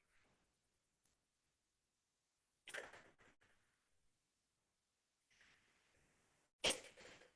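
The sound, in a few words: sneeze in courtroom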